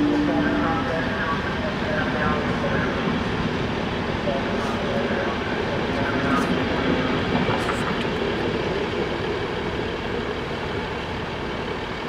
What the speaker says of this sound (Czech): Vlak je připraven k odjezdu.